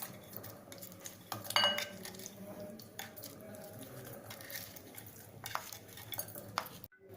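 Softened lemon pickle pieces are scooped from a pot into a big bowl, giving faint spoon scrapes and light clinks of metal on metal, close and quiet, with no talking.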